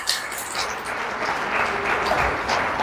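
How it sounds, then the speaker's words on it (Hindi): A crowd at a Hindu satsang gathering breaks into loud, sustained applause, a dense wash of many hands clapping together that swells slightly toward the end. "भाई जोरदार तालियां बजा दो"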